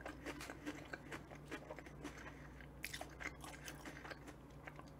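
Someone eats a convenience-store sandwich from a GS shop up close: quiet, steady bites and soft crunchy chewing, with no speech over it.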